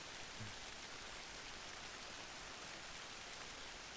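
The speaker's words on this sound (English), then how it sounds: "it's raining out here" Rain pours in the outdoor world of Final Fantasy XI, a steady, dense hiss of falling water that runs evenly and alone for the whole stretch, with no talk over it.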